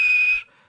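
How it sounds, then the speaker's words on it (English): A single sustained high-pitched steam engine whistle blast, loud and steady, cutting off abruptly after about half a second and leaving a faint tail. "And he blew his whistle."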